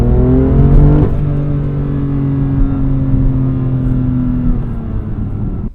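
A BMW M2 engine pulls hard under acceleration while driving through Detroit streets, a loud, steady drone whose pitch drops after about a second as the car shifts, then holds a strong, close sustained roar with no talking.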